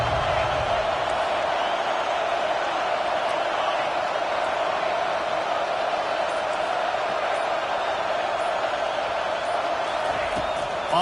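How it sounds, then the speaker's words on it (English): A home football crowd roars steadily, a dense sustained wall of cheering from a stadium full of fans urging on their defense, unbroken through the whole stretch. "Listen to this crowd just shaking the girders of this place"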